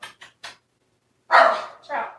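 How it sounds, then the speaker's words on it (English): A dog barks sharply at another dog walking past, a few short yaps followed by two louder, fuller barks, heard close by. "there was another dog walking past. How dare that dog? I know, and he was barking at Trout"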